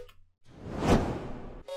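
A transition whoosh in a beat remake swells up from silence, peaks in the middle and fades out over about a second, loud and alone.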